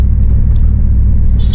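A 1998 Jeep Grand Cherokee Limited with a 5.9-litre (360) V8 idles with a deep, steady low-pitched rumble, close and loud with no voices.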